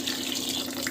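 Water pouring into a pot of boiled vegetables, heard as a brief, steady gush of running water close by.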